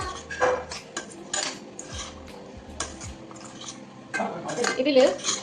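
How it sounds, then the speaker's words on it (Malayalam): A spoon mixes mango pickle with spices in a bowl, making close clinks and scrapes in irregular bursts, with a busier flurry of clatter at the end. "ഇത് നന്നായിട്ട് മിക്സ് ചെയ്തെടുക്കാം കേട്ടോ."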